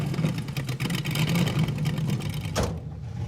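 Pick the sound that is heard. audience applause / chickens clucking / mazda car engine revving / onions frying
mazda car engine revving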